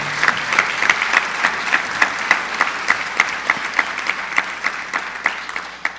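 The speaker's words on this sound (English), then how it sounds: "Could we have a round of applause for all those individuals?" Concertgoers at a holiday symphony and song performance clap in a steady, even rhythm, distinct claps landing about three times per second over a bed of lighter applause, with no one speaking.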